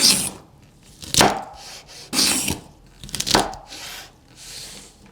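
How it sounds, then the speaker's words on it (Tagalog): Fresh string beans (sitaw) being cut into hand-span lengths with a knife on a board, giving four sharp, crunchy chops spaced about a second apart, close and clear with quiet pauses between. "Hatiin natin ng isang dangkal siguro para maganda ang pagkakabilog nito."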